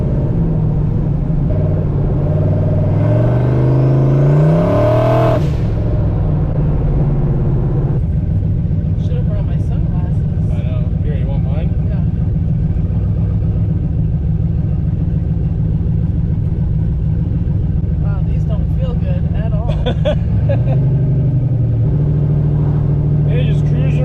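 A no-prep race car running on E85 with a Turbo 400 transmission cruises in third gear, its engine giving a loud, steady rumbling drone with a brief rising rev early on.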